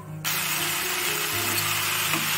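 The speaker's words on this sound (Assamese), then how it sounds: "মাজতে অলপ দেখাই দিলোঁ মিক্স ভেজৰ" Mixed vegetables of green peas, broccoli and potato frying in a pan, a steady close sizzle that starts abruptly and continues with faint stirring clinks.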